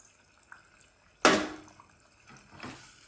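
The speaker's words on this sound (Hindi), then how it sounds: "तो यहाँ पे 1 प्याली 1 कप चाहे आप पानी का डाल दे।" Water from a cup is poured into a pot of chicken korma gravy, giving one sudden splash that fades into a short gurgle, followed by a softer second pour.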